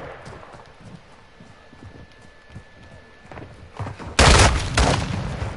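Shotgun fire in Modern Warfare 2 during a team deathmatch: a quiet stretch of game noise and footsteps gives way near the end to a loud, close burst of gunfire with a ringing tail.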